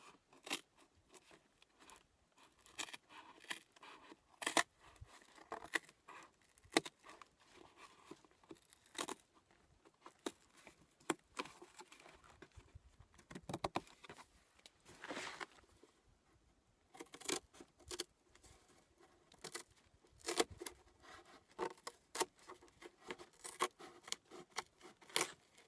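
Scissors cut through a cardboard box being made into a collapsible solar oven, giving quiet, irregular crunching snips and tearing in bursts with short pauses, close and soft.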